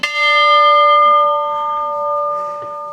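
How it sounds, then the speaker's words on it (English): A bell at a train museum gives one loud, clear strike, and the bright metallic tone rings on and fades slowly over a few seconds. "You get to hear all these different bells."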